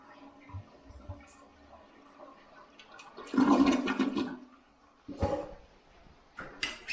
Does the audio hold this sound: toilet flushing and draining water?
yes